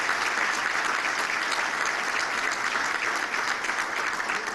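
An audience at a Middlesex Chamber of Commerce breakfast in Connecticut gives steady, continuous applause, a dense even wash of clapping throughout with no voices over it.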